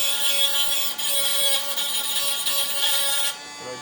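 A Dremel mini grinder fitted with a polishing bit working against a rock: a continuous high, buzzing whine with a gritty rubbing edge, steady and close, dropping off just before the end.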